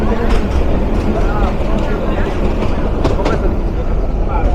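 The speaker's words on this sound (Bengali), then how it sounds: "রমনা লোকালকে বসিয়ে তিস্তা রেলওয়ে জাংশন থেকে আমরা বের হয়ে যাচ্ছি কাউনিয়া রেলওয়ে জাংশনের উদ্দেশ্যে যাওয়ার জন্য" A local train rolls out of Teesta railway junction in northern Bangladesh, a steady loud rumble of wheels and carriage noise with faint rail clicks, continuous throughout.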